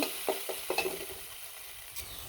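Chicken pieces frying with ginger and garlic in a pan, with a steady high sizzle broken by several soft stirring scrapes and clinks.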